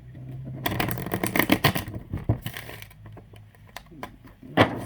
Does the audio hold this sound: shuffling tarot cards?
yes